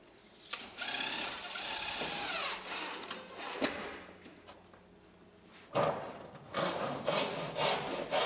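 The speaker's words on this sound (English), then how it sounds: "The ridge ends are trimmed to the eaves line with a coarse bladed saw or snips." A coarse-bladed saw cuts through Onduline roofing ridge ends with close, scratchy back-and-forth strokes in irregular bursts, pausing midway before a final run of rasping strokes.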